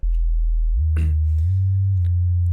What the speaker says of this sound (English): I have a singular sine wave here